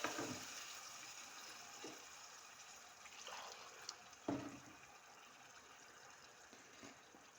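Water poured into a pan of frying rice, a soft wash of splashing and gurgling with a couple of brief knocks, fading to a quieter simmer.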